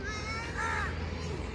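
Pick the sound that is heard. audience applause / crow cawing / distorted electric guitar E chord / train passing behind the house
crow cawing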